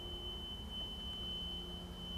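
A steady electronic alarm tone sounds continuously from an engine starter panel, a flat unbroken beep held at moderate level with a low hum beneath.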